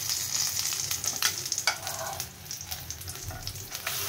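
Evening snacks frying in shallow oil in a Bengali home kitchen wok, a dense, loud, crackling sizzle that continues throughout with bursts of spattering, close up and uninterrupted by talk.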